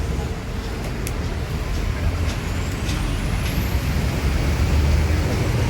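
A parked bus rumbles low and steady at close range, with faint short hisses from its air brakes and some voices in the background.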